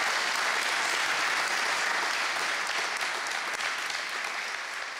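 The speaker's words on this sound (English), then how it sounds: "When you listen carefully, you hear a big audience applaud for you." A big audience at a food film festival applauds steadily and loudly throughout, a dense, even wash of many hands clapping with no pauses.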